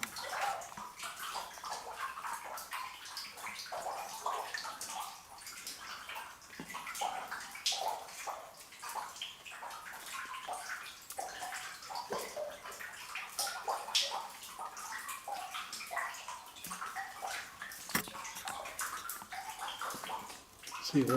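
Shallow water about six inches deep in a deep, wide flooded mine shaft with wooden timbers on the floor, quietly sloshing and gurgling with soft splashes in a continuous, faint, echoing wash.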